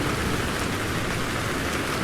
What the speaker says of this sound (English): The rain continues, but the air, fresh, alive, is a welcome companion.